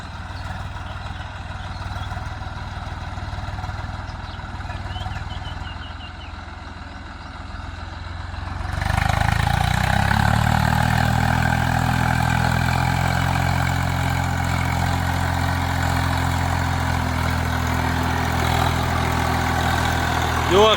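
A tractor engine idles at a low, steady pitch, then revs into a louder, deeper continuous drone as it ploughs a field, with no voices heard.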